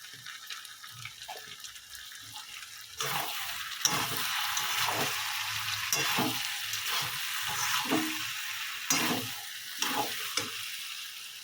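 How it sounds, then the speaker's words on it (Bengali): Jackfruit and prawns are sautéed in a pan for echor chingri with chana dal, and after a quiet start a busy sizzle sets in. Repeated scraping stirs and clacks of a spatula run through it. "এবার একটু ভালো করে কষিয়ে নিই আর ইঁচড় দিয়ে চিংড়ি মাছ দিয়ে ভালো করে কষানো হয়ে গেছে"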